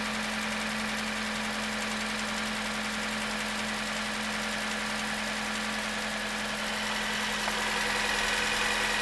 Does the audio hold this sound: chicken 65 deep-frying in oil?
no